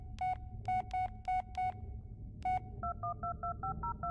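A phone in the video game Blair Witch dials voicemail with a series of crisp touch-tone beeps, first spaced single tones and then a faster run of paired tones, clear and close over a low background hum.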